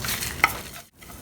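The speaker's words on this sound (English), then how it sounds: "we are going to fry or roast the masala very lightly" Garam masala roasting lightly in a little oil in a kadai gives a soft, close sizzle with stirring scrapes and one brief sharper clink, then a short pause near the end.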